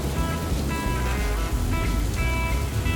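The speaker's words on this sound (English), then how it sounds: "Rain suddenly pours." Dense, steady rush of heavy rain pouring down, a continuous broadband wash with no talk.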